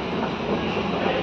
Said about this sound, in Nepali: मेट्रो आउँछ।